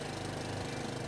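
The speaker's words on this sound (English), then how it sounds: "and then pull briskly until the engine starts and runs" A Honda HRX217 walk-behind lawn mower engine runs with a steady, dense, close drone and no pauses.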